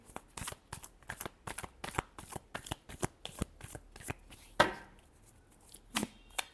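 Tarot cards are shuffled by hand in rapid, crisp bursts of slapping and riffling, close and clear, with brief gaps between strokes and no talking.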